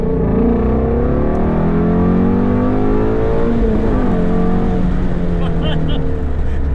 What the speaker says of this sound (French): J'ai trouvé l'accélération en 3 plus impressionnante que la 2.